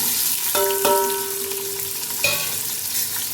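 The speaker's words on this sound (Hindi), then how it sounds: "प्याज को गोल्डन ब्राउन होने तक करूँगी फ्राई" Onions and green chillies fry with bay leaf, cumin, black pepper, cloves and cinnamon for chicken biryani, a steady loud sizzle broken by a few stirring scrapes and clanks.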